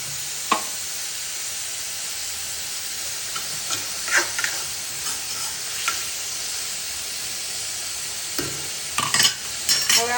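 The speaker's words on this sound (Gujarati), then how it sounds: "તો હવે આપણે એમાં ટમેટાની પ્યુરી નાખીશું। હવે થોડી વાર આપણે એને સાતળશું।" Tomato puree sautés with browned onions in a pan for dum aloo, giving a steady low sizzle broken by scattered stirring scrapes and clinks, busier near the end.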